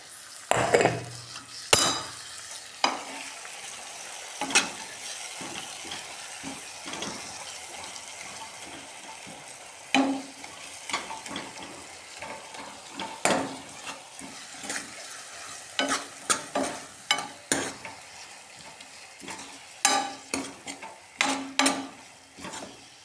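Raw turmeric roasting in a pan for chutney, stirred over and over, gives a steady close sizzle broken by frequent scraping strokes and clatters of the utensil against the pan, with no one speaking.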